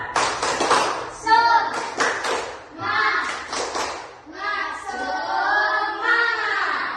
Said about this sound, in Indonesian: Oke, sekarang kita bertepuk tangan dulu ya. Tepuk semangat dulu kita ya.